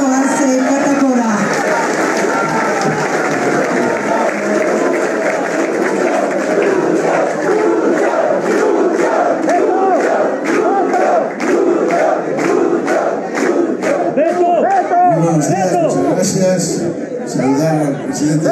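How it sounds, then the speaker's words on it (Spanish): Large political assembly crowd in Bolivia welcoming the president, a loud sustained roar of cheering and chanting voices with some clapping, close and continuous throughout. "Lo recibimos con este fuerte aplauso al hermano Luis Alberto Arce Catacora."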